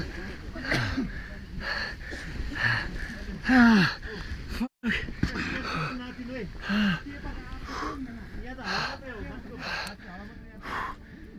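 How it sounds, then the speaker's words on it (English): Climbers sheltering in a tent after an avalanche on a mountain gasp, cough and wheeze in ragged, repeated breaths, close and strained, with voices mixed in among the breathing and a brief dropout partway through. "The men cough and gasp for air."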